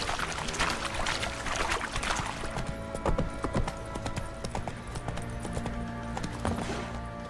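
Rapid hoofbeats clip-clop steadily over a busy, noisy background, like a horse moving at speed; a horse galloping in the video game The Witcher 3: Wild Hunt.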